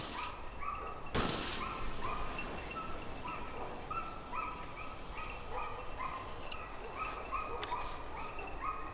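Hunting dogs bay repeatedly in the distance during a boar drive, their yelps rising in a steady broken rhythm through open country over a constant background hiss, with one sharp close knock early on.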